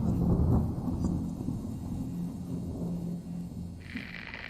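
Thunder rolls through a storm in a zombie survival drama, a deep sustained rumble that is loudest at the start and fades into a steady low growl, with rain hiss near the end.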